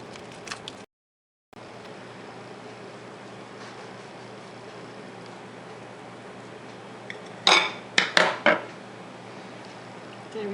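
A knife cuts into a Snickers candy bar cupcake in a quiet kitchen, giving a short cluster of four or five crisp cuts and taps near the end, close and fairly loud after a stretch of faint background hiss.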